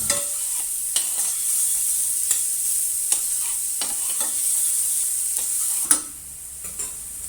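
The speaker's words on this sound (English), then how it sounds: "add some coarsely chopped onion. Saute it for a few minutes until it becomes soft and translucent." Coarsely chopped onion sautéing in oil, a steady close sizzle with occasional light clicks of stirring, a louder scrape near the end.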